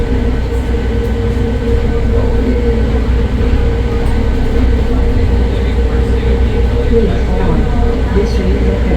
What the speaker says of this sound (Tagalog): This train is approaching Terminal 3.